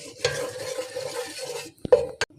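Ghee and whole spices such as green cardamom, fennel, cloves and star anise go into a pot for jaggery rice, with a soft sizzle and steady scraping stir, then a few sharp clinks of a utensil against the metal pot near the end.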